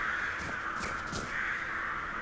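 Crows cawing in a video game, several harsh caws rising over a steady, dense background ambience, fairly close and loud, with no speech.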